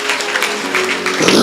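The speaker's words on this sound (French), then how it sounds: "Acclamons Jésus" A church congregation applauds during a prayer and healing service, with dense, steady clapping that swells slightly toward the end of the short burst.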